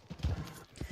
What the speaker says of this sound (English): So this is a new horse.